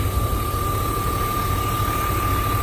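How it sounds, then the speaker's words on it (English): A BMW 328i Touring E36 engine idles steadily, a smooth low hum with a constant faint whine, even and unbroken throughout. "Engine sounds good, pretty clean."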